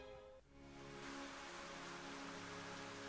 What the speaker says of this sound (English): It's raining, yes.